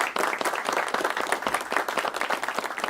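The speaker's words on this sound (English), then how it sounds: "Clap it up for teacher and Mika." A small group claps and applauds steadily for about three seconds, dense and close.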